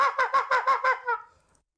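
A shaken gobbler call for turkey hunting imitates turkeys talking to each other: a quick burst of six throaty gobbling pulses, close and loud, trailing off into a fading rattle.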